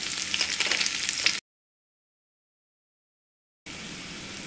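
Curry leaves, onion and garlic fry in hot oil with a bright, hissing sizzle. The sound cuts out completely for a couple of seconds, then the sizzle resumes.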